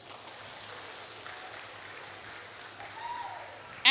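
Crowd applause fills a school end-of-year graduation ceremony at an Islamic education foundation in Semarang, a steady, moderately distant wash of clapping that swells slightly toward the end.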